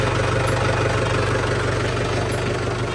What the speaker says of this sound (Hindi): चलो चलो, ट्रैक्टर गाड़ी स्टार्ट करो, हमें चलना चाहिए।